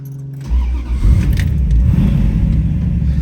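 A custom 1965 Plymouth Barracuda with a fuel-injected 360ci twin-turbo V8 and 5-speed manual pulls away as the clutch is let out a bit early, its quiet idle jumping into a loud, rough low rumble that holds steady.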